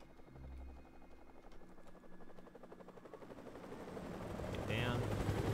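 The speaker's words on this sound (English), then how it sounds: "Enemy helicopters." Enemy helicopters thump overhead during a Call of Duty: Modern Warfare Remastered battle, their rotor drone rising in volume while rapid machine-gun bursts rattle and voices call out under the noise.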